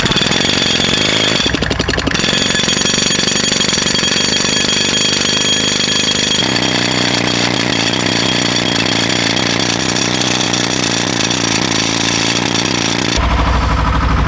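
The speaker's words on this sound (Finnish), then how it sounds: "nyt kun porataan tässä" A loud rock drill hammers continuously into rock before dynamite blasting, a harsh rattling roar that shifts pitch slightly and briefly pauses near the start and end.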